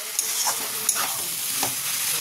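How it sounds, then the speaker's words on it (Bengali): Shrimp and vegetables fry with poppy seed paste and green chilli paste in a pan, a soft steady sizzle broken by a few scraping stirs of a spoon, no talk. "এই পোস্ত বাটা, কাঁচা লঙ্কা বাটা, এটা দিয়ে আবার ভালো করে কষিয়ে নেবো"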